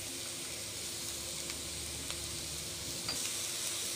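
Finely chopped vegetables sauté in a hot pan for road-style chicken fried rice, with a steady, dense sizzle throughout and a few faint clicks from stirring.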